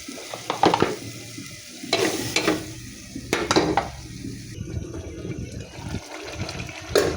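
Potato pieces added to a spice paste frying in a pan for a rohu fish curry with tomato and elephant apple, then stirred in repeated scraping strokes over a crackling sizzle, close and fairly loud, no talking.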